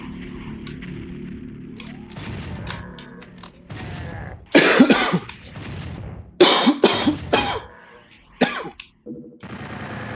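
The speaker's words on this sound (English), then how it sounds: "Oh, I'm coughing." Several harsh coughs come in bursts close to the mic, with throat clearing and quiet pauses between them; nobody speaks.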